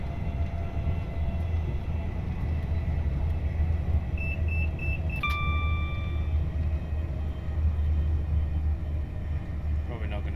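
A Class 390 electric train braking in a train simulator game, a low steady rumble of the running train with a brief series of beeps partway through, heard from the cab.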